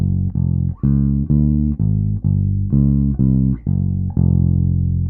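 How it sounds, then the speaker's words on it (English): A jazz bass plays a steady walking line of evenly spaced, sustained low notes moving step by step, loud and alone with no other instruments. "And we end up with the bass line that sounds like this."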